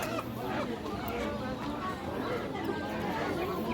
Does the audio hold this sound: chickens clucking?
yes